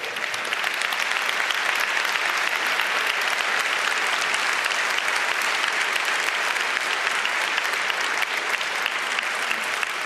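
Sustained, dense applause from a large conference audience at the 29C3 hacker congress, steady and loud across the whole stretch with no break and no talk over it.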